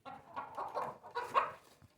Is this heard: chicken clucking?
yes